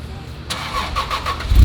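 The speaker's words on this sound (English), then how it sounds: "This is the cold start with the MagnaFlow exhaust and the Sport Cats." Cold start of a Honda NSX fitted with a MagnaFlow exhaust and sport cats, the engine catching after a quiet moment and settling into a steady mid-pitched idle with a few small pulses, close and fairly loud.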